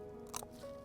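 A crisp, short bite into a young, fresh radish, heard close up but quiet, with a single crunch lasting a fraction of a second over faint background hum.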